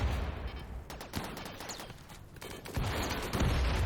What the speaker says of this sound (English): Also, was that a shotgun blast?